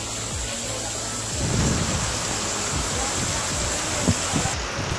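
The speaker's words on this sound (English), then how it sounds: "Rain is picking up." Heavy torrential rain pouring in Jamaica, a dense continuous roar of downpour with low rumbling surges, loud and close.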